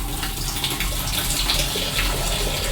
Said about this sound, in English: I begin my morning routine by brushing my teeth, washing my hair, and taking a shower.